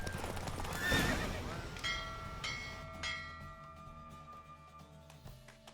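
A horse neighs loudly, then hooves clip-clop in a rapid gallop among ringing synthetic game sounds and chimes, from the video game Witcher 3: Wild Hunt.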